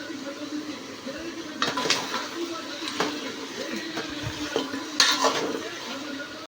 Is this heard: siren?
no